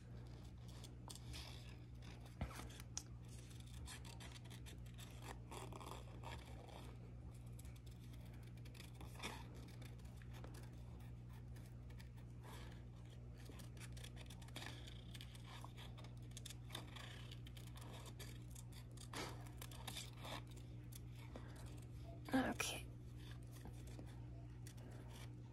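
Scissors trim a white paper border for a glue book page, giving faint scattered snips and scrapes over a steady low hum, with one louder cut near the end and no talking.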